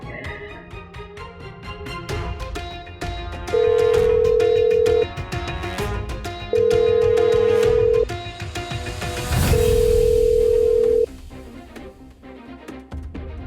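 A phone ring tone sounds three times in long, evenly spaced pulses over background music, and nobody answers.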